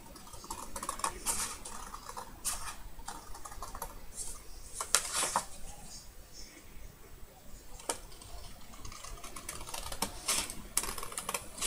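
Scissors cut through paper for a handmade explosion box, giving a string of crisp, close snips in irregular bursts over a quiet room with no talking.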